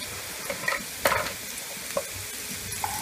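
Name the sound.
sautéing onion, green chili and ginger-garlic paste in a pan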